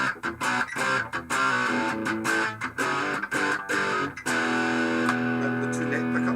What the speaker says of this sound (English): I normally use distortion also, that's with the rat pedal on.